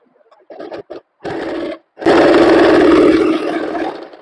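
A sewing machine stitches a blouse sleeve at close range, starting with a few short bursts and then settling into a steady, loud whir of running stitches.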